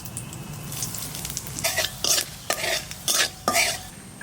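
Panch phoron spices crackle and sizzle in hot mustard oil in a pan, a steady fry hiss broken by several sharp bursts of popping close by, with no voices.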